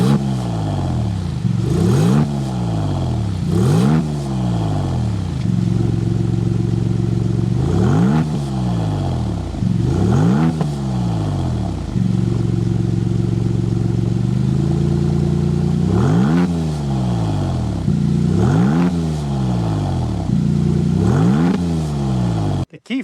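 A Maserati MC20 Cielo supercar's exhaust barks through a string of loud, close revs, rising and falling sharply in a steady rhythm with brief idling stretches between blips.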